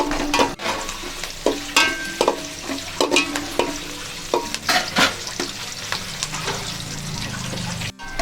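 Onions being sautéed in a pan hiss under a busy run of sharp spatula scrapes and knocks against the metal, irregular and close, with a frying crackle running continuously beneath.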